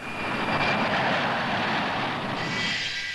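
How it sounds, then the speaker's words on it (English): A BAC 111 airliner flying at the 1966 Farnborough air show, heard as a loud, steady jet engine roar that swells and slowly shifts in pitch over a few seconds. "That trio of successful airliners, the BAC 111, one of Britain's top dollar earners."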